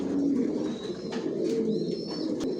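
Racing pigeons in a loft coo continuously in a low, murmuring drone, with faint chirps over it and no talk.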